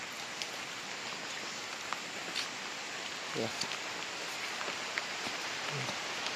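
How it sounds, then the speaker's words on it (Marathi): Steady rain hisses throughout, a dense even wash of drops with a few brief knocks and faint voices now and then. "नेटान पावस पडटा"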